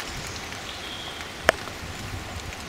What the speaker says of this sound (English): You can also hear the rain